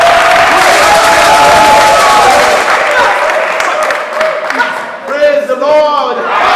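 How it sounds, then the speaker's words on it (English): A church congregation claps loudly together amid cheers and shouts, the clapping thinning out as voices rise near the end. "Clap your hands."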